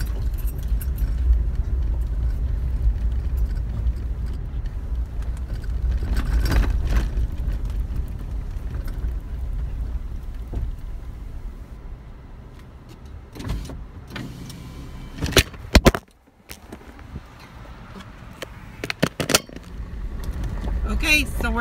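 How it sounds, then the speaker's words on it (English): A Jeep rolls over a dusty off-road trail with a steady, loud low rumble, broken by a few sharp knocks and jolts near the end as it bounces along. "so we're now off-roading"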